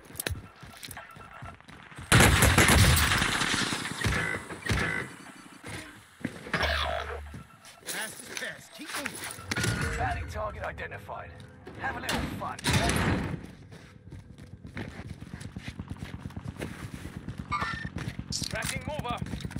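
STG 44 assault rifle fire in Call of Duty Warzone, with bursts of rapid automatic shots and thuds mixed with game effects, often under a player talking.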